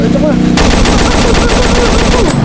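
Loud, rapid bursts of automatic gunfire with sharp repeated cracks, mixed with game sound effects and music.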